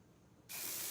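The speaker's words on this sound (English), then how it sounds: "Take my dry shampoo and I'm gonna let it fall like this." Dry shampoo aerosol sprayed onto hair roots, a single sudden steady hiss that starts halfway through after a quiet moment and carries on to the end, close and clear.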